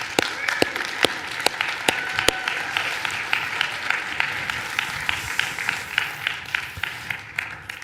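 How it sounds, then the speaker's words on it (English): Applause in a church gathering, a crowd clapping steadily throughout, with several sharp, close individual claps standing out at a regular beat over the softer mass of clapping. "big round of applause for Jeff"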